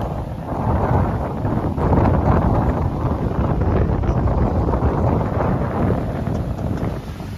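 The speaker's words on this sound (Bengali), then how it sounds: "বিশাল হাওয়া দিচ্ছে।" Strong wind on Digha beach buffets the microphone in a loud, continuous rumbling roar that surges and eases slightly throughout, with no voices.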